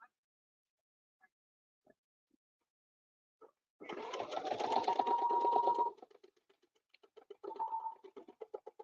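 A sewing machine stitching a seam, starting after a few faint clicks with a steady, close whirring run of about two seconds, then a few short ticks and a second brief burst of stitching.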